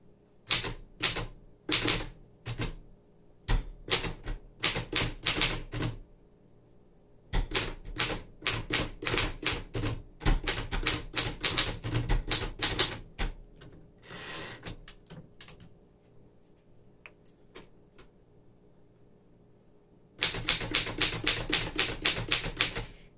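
A 1947 Royal KMM manual typewriter with glass keys typed in close, rapid bursts of sharp clacking keystrokes separated by short pauses, loud and alone.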